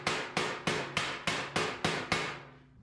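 A hammer taps sheet metal to close a gap before welding, eight sharp, evenly spaced ringing strikes up close, each decaying briefly before the next.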